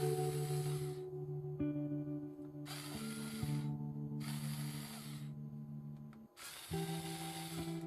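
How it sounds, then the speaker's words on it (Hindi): Screws on the bottom panel of a Lenovo G50-80 laptop being undone with an electric screwdriver, bursts of whirring motor alternating with short gaps, steady and close with no voices. "अभी आप नीचे की तरफ जो 3 स्क्रू है उसको भी आप खोल दीजिए।"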